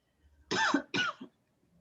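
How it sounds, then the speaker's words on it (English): Two short, sharp coughs close to the mic, one right after the other, followed by a brief quiet tail. "And now I'm going to start coughing."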